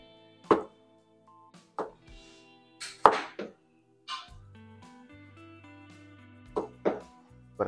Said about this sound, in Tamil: உருளைக்கிழங்கு 4 உருளைக்கிழங்கு சீவி வச்சுருக்கேன். ஸோ இதை இப்படி கட் பண்ணிப்போம்.